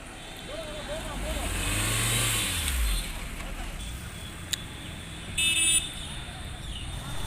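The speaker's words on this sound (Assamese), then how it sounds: "বাকী গাড়ীখিনি আমাৰ আহি আছে" Cars from a wedding party arrive on a road: one vehicle swells past close by with a rising then falling engine drone, followed by a brief horn toot and quieter traffic noise.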